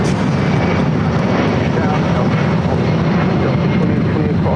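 A Delta Boeing 757 sports charter jet at LAX roars steadily and loudly, a broad continuous engine rumble filling the scene throughout without letup.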